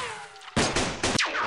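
Several loud, close gunshots crack out in a quick burst in a World War II campaign war game set on the Western Front, with no voices over them.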